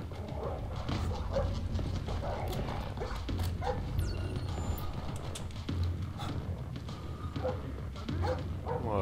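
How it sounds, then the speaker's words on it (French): Dogs bark and yip in Splinter Cell Blacklist gameplay, repeated barks over a dense, constant game soundscape with music and effects, fairly loud throughout. "Oups, un toutou."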